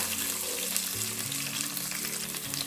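Shallots frying in hot oil, a loud, unbroken sizzle with busy crackling throughout, close by and without talk.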